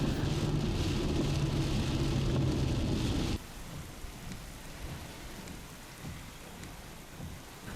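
Steady heavy rain pours during a band of non-severe thunderstorms, with a deep low rumble of thunder under the downpour in the first few seconds, then continuing rain hiss with faint pattering drops.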